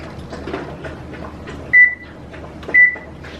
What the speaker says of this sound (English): I'm going to set the oven to 350